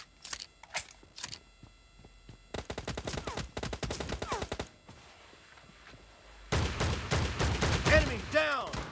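Shotgun blasts and gunfire in a video game team deathmatch. Sharp bursts come in quick clusters with gaps between them, and a dense loud barrage near the end. Voices are heard faintly.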